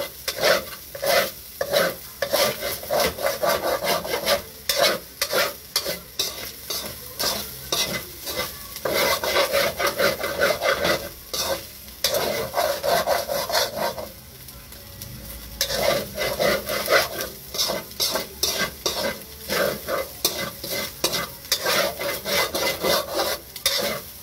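Ground pork sisig frying in a pan while being stirred, with steady sizzling under rhythmic scraping and rubbing strokes of a spatula against the pan, continuing for over twenty seconds with a brief lull midway; no talking.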